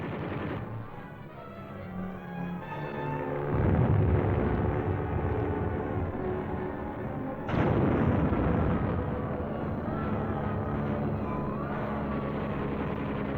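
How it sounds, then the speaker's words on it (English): Military attack aircraft diving to strafe and bomb enemy positions, a continuous heavy roar of engines and dense rumbling blasts of gunfire and explosions, swelling in two loud surges, with no voices. "they dive on the target, strafing the enemy, bombing and burning him out"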